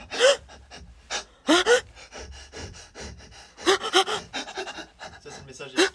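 A singer's sharp breathing and panting in a recorded music piece from the Bacchae, coming as bursts of gasps and heavy breaths in irregular clusters, close and loud.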